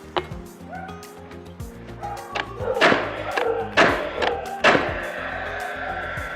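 A Paslode straight brad nailer fires brads in a few sharp, close thuds spaced about a second apart, with clattering handling noise around them.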